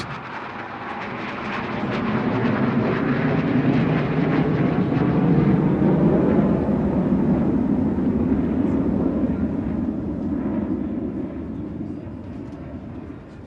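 Typhoon military jets fly past in formation at a multinational naval exercise over a beach in Visakhapatnam, a loud roaring rush that swells, holds for several seconds and slowly fades.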